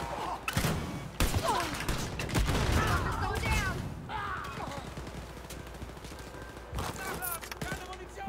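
Gunfire from Wolfenstein: Youngblood, with repeated sharp shots and bursts mixed with thumps and game noise, while someone talks over the action.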